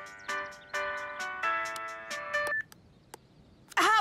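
A bright electronic ringtone melody from a cartoon plays in clipped repeated phrases, then stops; a short sharp noise follows near the end.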